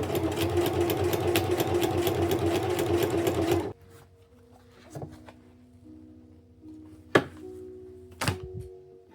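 A sewing machine runs steadily, stitching a vinyl upholstery pleat with a rapid, even mechanical chatter for several seconds, then stops, leaving a few scattered clicks and knocks of handling.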